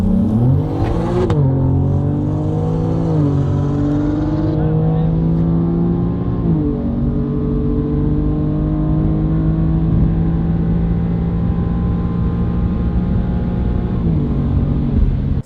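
A turbocharged race car accelerates hard on an airport runway. The engine climbs through several gear shifts with rising, falling revs and stays loud and close throughout, with no talk over it.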